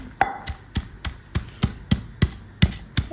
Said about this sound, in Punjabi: ਚੰਗੀ ਤਰ੍ਹਾਂ ਇਹਨਾਂ ਨੂੰ ਕੁੱਟ ਲੈਣਾ ਕੁੰਡੀ ਦੇ ਵਿੱਚ